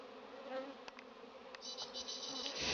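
Honeybees fanning their wings at the hive make a dense, continuous buzzing drone, close and steady, with a few individual bees whizzing past near the microphone.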